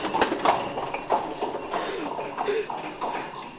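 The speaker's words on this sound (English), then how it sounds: "horse and carriage are coming towards" Hooves of a horse and carriage clip-clopping on a hard street in Mdina, Malta, in an uneven rhythm, fairly close, with faint city background noise.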